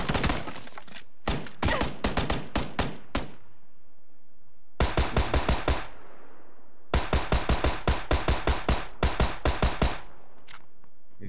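A Tommy gun in PUBG fires in rapid bursts, close and loud, with sharp repeated cracks broken by short pauses between strings of shots.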